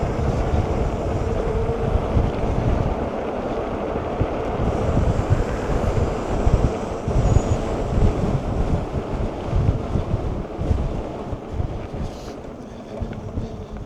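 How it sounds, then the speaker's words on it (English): Loud, blustery wind buffets the microphone while riding a SAMEBIKE RS-A02 Pro electric bike at speed, a heavy low rumble with gusty surges across the whole stretch and no speech. "Cool, it's windy."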